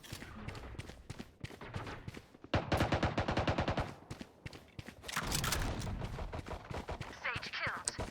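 Rapid bursts of gunfire in the game Valorant, loud and close, with dense volleys and short pauses between shots and some footsteps mixed in.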